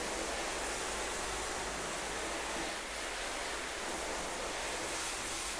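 A car is rinsed with water during a wash, a loud, continuous broadband hiss of spray hitting the bodywork with no pauses and no talking.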